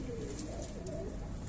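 Soft, low cooing of pigeons kept by a bird keeper, a few gentle coos over a steady background hum.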